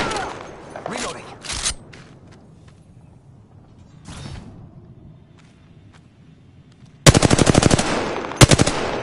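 Machine gun fire in the Apex Legends shooter game: a dense, loud burst of rapid automatic shots near the end, preceded by quieter game effects and scattered clicks and shuffles, with some voice in the mix.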